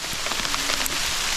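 Heavy rain pours down steadily outdoors near an animal pen, a dense close hiss of drops hammering surfaces with no pauses.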